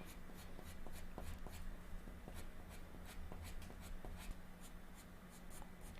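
Graphite from a Staedtler Mars Lumograph Black pencil scratches and whispers across paper in steady, repeated shading and blending strokes, faint and close with a soft rhythmic scrape.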